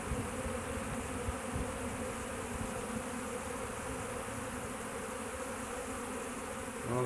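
A honeybee swarm hums steadily and densely at close range, a continuous layered buzz of many insects with wing fanning mixed in, holding an even level throughout with no talking.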